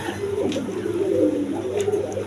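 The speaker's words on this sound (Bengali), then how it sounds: "দেখেন এখানে একটা বন্টিনেটের নর কবুতর আছে, আর এই যে মাদিটা ছেড়ে দিলাম" Male and female Bangladeshi pigeons, a breeding pair, coo in a low rolling murmur that runs steadily through the moment, close by, with faint background noise.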